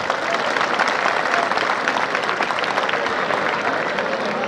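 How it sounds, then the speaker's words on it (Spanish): A rodeo crowd applauds a bull and its rider in a loud, sustained wave of clapping and cheering that fills the arena for several seconds, with no announcer over it. "El aplauso es para el toro del Nahuachi Guerrero y el jinete Quicho Sed"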